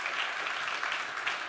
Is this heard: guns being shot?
no